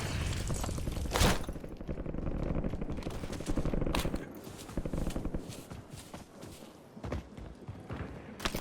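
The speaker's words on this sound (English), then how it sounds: "Impact grenade!" A Call of Duty Warzone match bursts with gunfire and a sharp impact grenade blast, dense rapid shots and heavy booms stacking in a loud, chaotic battlefield mix.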